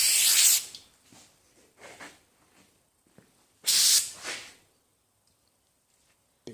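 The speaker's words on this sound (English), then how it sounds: "Tried to ward off these fuckers with brake clean, see if they like the stink or not" Aerosol brake cleaner sprays in two strong hissing bursts, near and loud, with softer rustling and faint handling sounds between and quiet stretches after.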